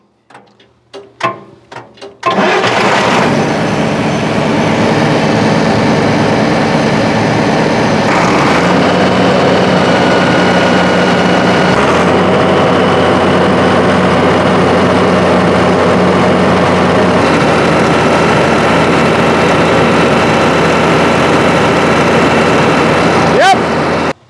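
An engine starts up to drive a hydraulic pump for a pressure test: a few clanks and a cranking burst, then a loud steady mechanical roar with a rising pump whine, shifting in pitch as load changes.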